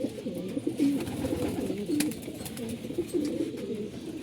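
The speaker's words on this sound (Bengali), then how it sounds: "মাশাআল্লাহ কবুতরগুলো সুন্দর আছে।" Pigeons coo steadily in soft, overlapping low calls, close by and repeating throughout under a faint outdoor background.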